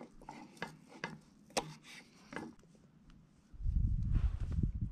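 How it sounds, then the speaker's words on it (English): A knife chops roots off a wild onion outdoors: several sharp, close cutting taps in a loose rhythm, then a louder rumbling rustle of handling, no talking. "Cut the roots off and probably chop it right there."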